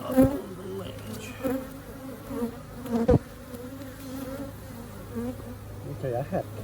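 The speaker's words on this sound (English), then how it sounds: "there were a lot of bees in the air with that hive" Many honey bees hum continuously in a close, layered swarm around an open hive during an inspection, with occasional louder buzzes as single bees pass right by.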